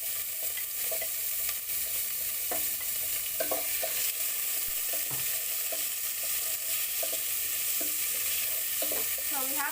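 Tomatoes sizzle in a hot saucepan for sambar, a steady loud frying hiss with intermittent scraping knocks from a spoon stirring the pan.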